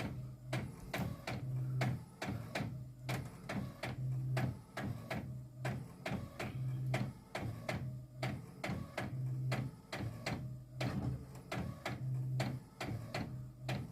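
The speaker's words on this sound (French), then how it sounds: "regardez, elle est partie pour imprimer" A photo printer prints a 10x15 photo, clacking in a fast, regular mechanical rhythm with a low motor hum pulsing in repeated cycles, close and steady throughout.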